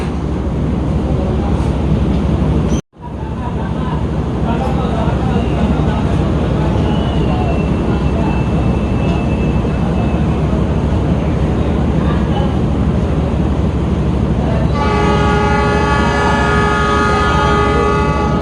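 An Indonesian passenger train idles at a station with a low rumbling drone and background chatter, then a loud, sustained departure horn blares near the end.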